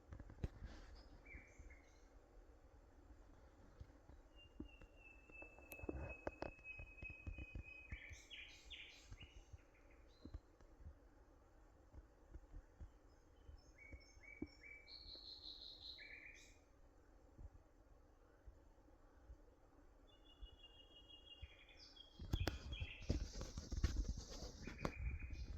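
Birds sing at night around a solo bivouac camp outdoors, thin scattered whistles and short phrases at a distance over a quiet background, with a few louder rustling bursts near the start and end.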